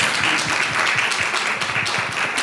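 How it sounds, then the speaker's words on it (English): A workshop group on Character Day claps for themselves in a short, lively burst, with separate close hand-claps standing out in a quick, uneven patter. "let's give ourselves a round of applause"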